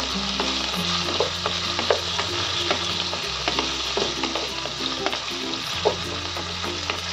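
Turmeric and red chili powder stirred in a pan while making a yogurt okra dish, with a steady sizzle of frying and repeated scraping strokes of the spoon, close and continuous, no voices.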